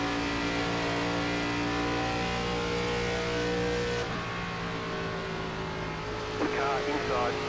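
Race cars in an ARCA Series event at Charlotte Motor Speedway in iRacing, engines droning steadily as several cars run past and the pitch shifts, with a voice talking briefly near the end.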